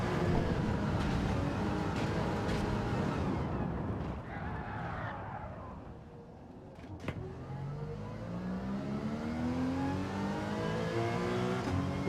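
Racing game cars, a Porsche and a Supra, roar along with engines revving and shifting pitch, rising and falling as they accelerate, steady and fairly loud with a sharp click partway through.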